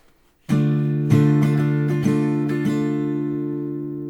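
A guitar strummed up close: a ringing chord, then a quick run of down and up strokes before it sustains and fades.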